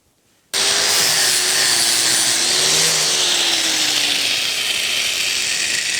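Metal being cut for a blacksmith guillotine starts abruptly with a loud, steady, harsh cutting roar that runs on continuously and close up, with no voices.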